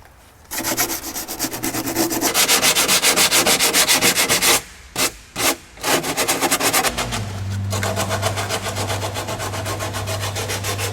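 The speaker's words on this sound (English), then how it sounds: "I'm using an 80 grit sandpaper just to rough it out" Rough, rhythmic scraping of 80 grit sandpaper on a rusty car body panel being roughed out for filler, loud and close, with brief pauses between bursts of strokes and no talking.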